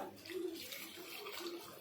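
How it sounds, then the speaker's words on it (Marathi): Water is poured steadily into a pot of steaming chicken curry in a continuous splashing stream, close by, with no talking over it. "हे जे पाणी आहे हे टाकून घेऊया"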